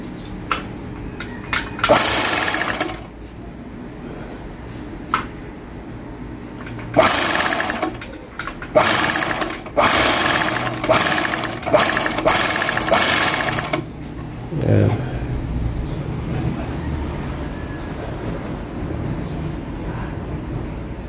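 A Pegasus DC1 three-thread serger sewing machine, just repaired, whirs in several short bursts, then one longer continuous run, loud and close, with pauses of quieter room noise between.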